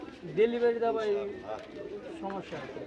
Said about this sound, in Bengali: যারা এই সুন্দর সুন্দর কবুতরগুলো নিতে চান তারা অবশ্যই যোগাযোগ করবেন সোরাব ভাই